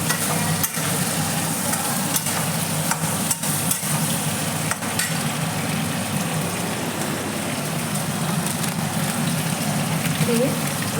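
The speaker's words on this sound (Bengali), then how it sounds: "দুটো লঙ্কা দিয়ে দিলাম।" Green chillies dropped into a home cooking pot of vegetables with potato, papaya and stalks give a steady, close sizzle under broadband frying noise, with a few sharp clatters of stirring and no talk.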